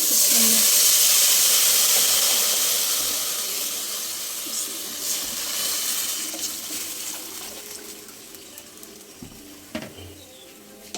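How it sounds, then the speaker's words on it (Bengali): Water poured into a pan of fried rice for pulao, a loud hissing sizzle and gush at first that gradually fades to a softer steaming bubble with a few clinks. "তো এখন আমি পানি দিয়ে দিচ্ছি।"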